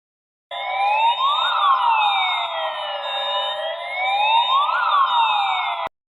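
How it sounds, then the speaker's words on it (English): A loud electronic site gas alarm siren, for flammable, toxic or oxygen gas, sweeps up and down in slow, repeating wails, then cuts off abruptly. "There are two types of siren which are one for flammable, toxic, oxygen gas alarm."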